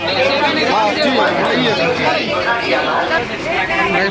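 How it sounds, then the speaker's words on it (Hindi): Packed Jan Shatabdi Express passenger train from Delhi Sarai Rohilla to Ajmer, a close dense babble of many voices chattering at once, continuous and loud. "तो देखिए कितनी भीड़ है ट्रेन में।"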